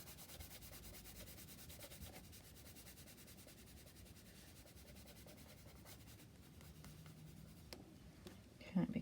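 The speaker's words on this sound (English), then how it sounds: "Be careful colouring this bit at the bottom." A pencil colours on paper while a rocket and solar system drawing is filled in, making a continuous, soft scratchy rubbing of close back-and-forth strokes, quiet throughout, with a voice speaking at times.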